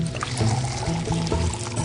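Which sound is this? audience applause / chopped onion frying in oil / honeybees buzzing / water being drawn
water being drawn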